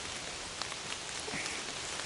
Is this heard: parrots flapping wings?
no